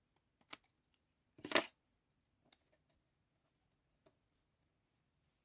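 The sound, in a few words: scissors cutting paper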